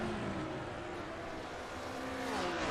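Two race cars, a Porsche and a BMW, roar side by side in a sim racing game at Watkins Glen, engines droning loud and close with shifting pitch and faint tire noise, heard alone without talk.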